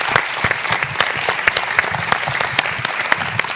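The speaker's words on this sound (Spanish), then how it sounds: "les damos un aplauso" Lively applause from an audience at a crime-fiction book talk, with close individual claps standing out sharply within a steady ongoing round.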